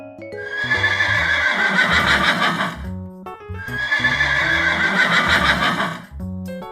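A horse neighs loudly twice in a row, each whinny a long, shaky, quavering call that trails off, close by and with no one talking.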